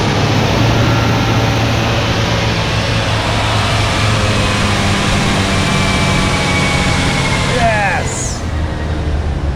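A 1989 Dodge D250 truck engine runs at a fast idle just after starting, a loud, steady low rumble with a brief chirp near the end, and people talk over it.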